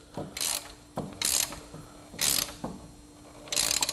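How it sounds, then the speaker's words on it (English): Ratchet wrenches clicking in short bursts on the front wheel bearing of a Yamaha Big Bear 350 ATV, four close, loud spells of rapid ratcheting separated by brief pauses. "Let's get the wrenches on there."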